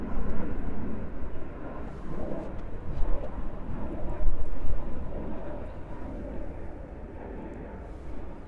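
Delta Airbus A330-900 airliner at JFK airport, a broad distant roar of jet engines that swells slightly midway and then gradually fades, with no voices over it.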